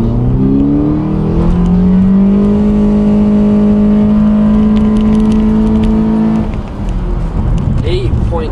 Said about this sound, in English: let's see how fast my puppy actually goes in sport mode.